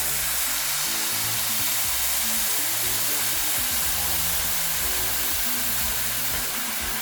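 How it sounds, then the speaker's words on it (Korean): Mussel and shrimp stock poured into a hot pan for kimchi paella, giving a steady, loud broadband sizzle and hiss that holds evenly throughout with no talking. "자, 이제 아까 홍합과 새우로 만든 육수를 넣습니다."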